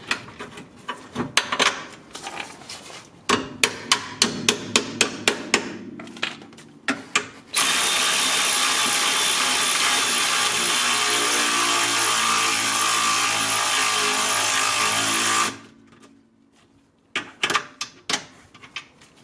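Power tool runs in one long continuous whir for several seconds between bursts of rapid ratcheting clicks and metallic clanks as suspension bolts are tightened on a 1997-2001 Honda CR-V, close and alone.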